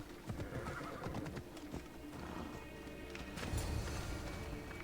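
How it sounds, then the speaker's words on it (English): Horse whinnying in the Assassin's Creed Odyssey game, set over clip-clopping hooves and busy in-game ambience, with a louder swell near the end. "I didn't intend to jump on her horse."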